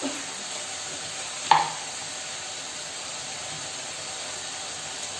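Spicy curry paste sizzles while frying in a pan, giving a continuous soft hiss with a single metallic clink partway through.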